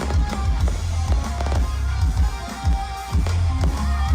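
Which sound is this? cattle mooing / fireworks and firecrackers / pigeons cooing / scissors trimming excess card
fireworks and firecrackers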